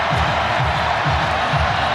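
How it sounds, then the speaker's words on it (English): A football stadium crowd at a college game cheers and chants in a steady, dense roar with a rhythmic pulsing beneath it, loud and enveloping. "Crowd gets a little riled up."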